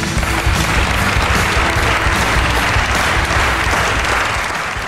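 A TV studio audience applauds a winning folk singer in a loud, steady burst of dense clapping that fills the whole stretch, with no talk over it.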